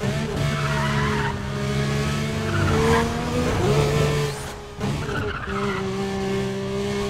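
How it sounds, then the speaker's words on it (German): A car in the racing game Need for Speed Undercover slides sideways at high speed, its tires squealing in long sustained screeches over a steady engine roar, loud and close throughout. "Boah, unser Auto schlittert, wenn wir sehr schnell fahren, einfach nur noch quer über die Straße."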